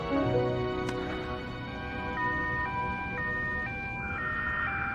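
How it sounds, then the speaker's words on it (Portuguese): Ambulance siren wailing in a two-tone alternating pattern, moderately distant, rising out of a faint background with a brief sharp click near the start. "Por que tem som de ambulância?"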